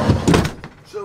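The big entry door of a 2022 Coachmen Beyond 22D Li3 AWD Ford Transit camper van swings open with a brief, close, solid clunk as someone speaks nearby.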